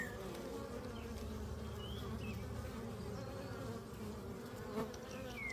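A swarm of honeybees buzzes around a hive box being filled, a steady low hum of many bees with individual insects darting close by, heard alone without talking.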